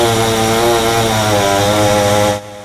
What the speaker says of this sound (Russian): Сухие деревья пилят и в промышленном районе Самары.